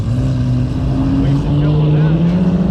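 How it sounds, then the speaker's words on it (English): A Lamborghini SV sports car pulls away, its engine droning loud and close with a rising pitch as it accelerates, a continuous throaty roar across the short moment. "We got the SVJ, or no, sorry, SV heading out as well."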